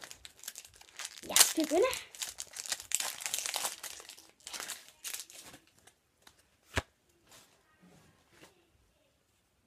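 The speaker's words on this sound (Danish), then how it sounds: "jeg skal åbne denne her Pikachu Mappe" Crinkly plastic wrapper of a Pikachu Pokémon card booster pack being handled and torn open, crackling in bursts up close, while someone talks over it.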